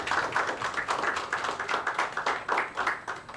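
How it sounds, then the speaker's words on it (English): An audience claps at a conference session on MSMEs as engines of growth: brisk, continuous clapping from a modest group, steady and moderately loud, with no talking over it. "Big clap."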